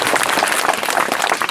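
Schoolchildren at an outdoor forest-department outreach programme clapping for a forest officer, a brisk, dense round of many hands close by, loud and continuous with no talk.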